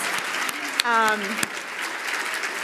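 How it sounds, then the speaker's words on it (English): Brief applause from an awards gala audience, a soft wash of clapping that stays at an even level for a few seconds while a voice briefly cuts through. "please, another round of applause for our amazing 2025 Military Child of the Year Award recipients"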